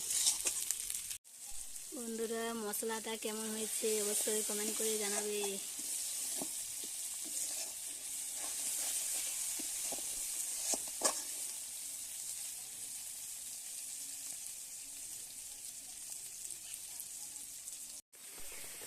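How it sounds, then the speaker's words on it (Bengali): Ground cumin, chilli and turmeric frying in oil for khichuri make a continuous soft sizzle. Someone speaks over it for a few seconds early on, and brief clatters and stirring scrapes follow. "একটু ভাজা হয়ে গেলে তারপরে দেব জিরে গুঁড়ো লঙ্কা গুঁড়ো হলুদ গুঁড়ো"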